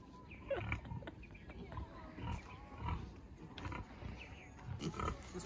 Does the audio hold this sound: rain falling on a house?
no